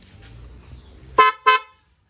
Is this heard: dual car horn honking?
yes